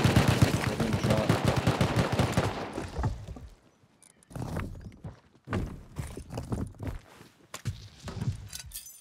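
Gunfire in the survival video game Rust: a dense burst of rapid shots fills the first few seconds, then sparse, scattered bangs and thumps follow with gaps of near silence.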